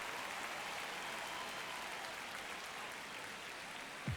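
Baseball stadium crowd in an MLB The Show game, a steady broad roar of cheering and applause filling the ballpark late in a close ninth inning, sustained throughout with a brief louder swell at the very end.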